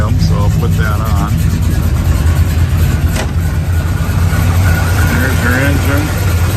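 A muscle car with dual exhaust and an Edelbrock-carbureted engine idles loudly and steadily, a deep continuous rumble running under a voice throughout.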